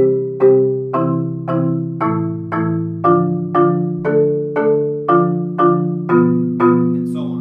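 A percussion exercise on pitched instruments moves back and forth between intervals of thirds and fifths, with a steady stream of evenly spaced struck notes that ring briefly, played alone and close.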